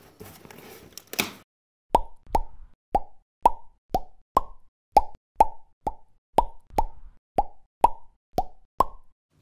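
Repeated plop effects, about fifteen evenly spaced short pops at a steady rhythm, placed over clips of high-voltage components being fitted in a Keithley 236 to 237 source measure unit upgrade, with a brief noisy burst before they start.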